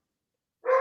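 A dog barks once, a single short bark that starts abruptly after a stretch of silence and sounds moderately close.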